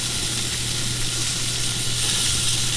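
Steak fries in butter in a hot pan, giving a steady, close, dense sizzle and crackle that holds without a break and has no voices over it.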